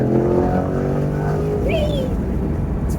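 A Chevrolet Corvette C8 hums along from inside the cabin, a steady engine drone with a brief rising rev and wind noise, loud and close.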